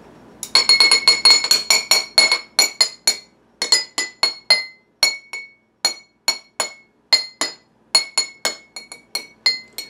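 Rapid, bright clinks of glow sticks tapping water-filled glass cups ring out in a quick melodic sequence, each strike chiming at a different pitch, loud and close.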